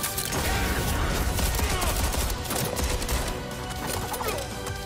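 Dense, continuous gunfire from the gunner class in the game Project BBQ, a steady loud clatter of shots mixed with clanking combat effects, running without pause throughout.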